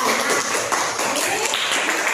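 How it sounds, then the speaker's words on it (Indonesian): Fifth-grade pupils in a classroom applaud a student group, giving a dense, steady wash of clapping that stays fairly loud throughout, with faint voices underneath. "beri tepuk tangan buat kelompok bulan"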